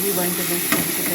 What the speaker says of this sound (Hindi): इसमें हमने लहसुन डाल देंगे, ठीक है। और लहसुन जैसे ही थोड़ा सा ब्राउन होता है